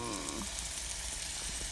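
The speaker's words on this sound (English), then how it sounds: "Do you hear the sizzle?" Oil sizzles steadily in a frying pan, a close, constant hiss that fills the whole short stretch at a moderate level.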